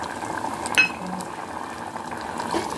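Dal cooking with tamarind juice in a pot, a soft steady bubbling and gentle simmer throughout, with a brief clink near the start.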